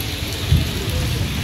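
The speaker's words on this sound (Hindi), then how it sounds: "यह है बारिश" Steady, dense rainfall with a constant hiss and low rumble, close and fairly loud, with no voices.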